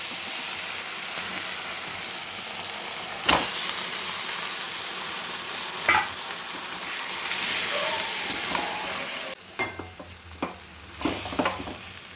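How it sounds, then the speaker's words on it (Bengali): Marinated chicken fries in garlic, ginger and green chili paste for chicken polao, a continuous close sizzle with sharp clacks of a spoon stirring and scraping the pan every few seconds. "আর এটাকে একটু নাড়াচাড়া করে ম্যারিনেট করা চিকেনটা এতে দিয়ে দেবো"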